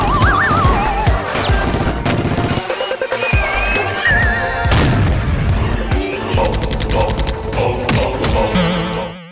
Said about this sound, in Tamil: திடீர்னு அங்கங்க ஆத்துக்குள்ள எல்லாம் கண்ணி வெடி வெடிக்குதுங்க